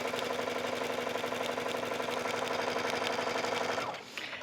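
A home sewing machine with an automatically adjusting bobbin runs at a fast, even stitching pace, its mechanical chatter loud and close, then slows and stops near the end.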